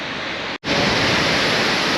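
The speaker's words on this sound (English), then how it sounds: "That water that was being squeezed into that little chute is just pouring down into here" Water squeezed through a narrow rock chute pours down into a deep gorge, a loud continuous roaring rush broken by one brief dropout, heard close and alone.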